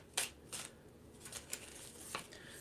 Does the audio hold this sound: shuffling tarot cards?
yes